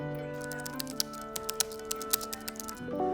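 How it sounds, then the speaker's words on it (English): Steady typing on a computer keyboard in a quiet home room, with irregular clicking keystrokes, some sharper taps standing out, over a faint background hum with a low tone shifting near the end. "as her brother was typing a terrible sound"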